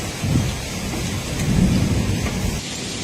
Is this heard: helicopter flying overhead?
no